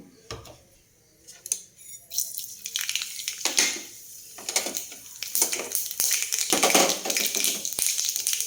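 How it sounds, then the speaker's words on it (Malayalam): Mustard seeds pop in hot coconut oil, starting almost silent and building into irregular bursts of sharp crackling and spattering that grow louder and denser toward the end. "കടുക് പൊട്ടിക്കഴിയുമ്പോൾ"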